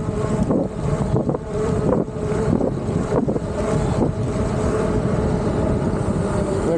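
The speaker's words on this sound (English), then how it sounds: "Got a slight headwind." Steady, loud headwind buffeting the microphone of a Juiced Rip Racer e-bike speeding downhill, a continuous rushing roar with brief gusty dips and no talking.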